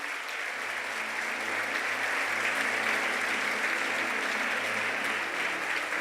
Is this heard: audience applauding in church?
yes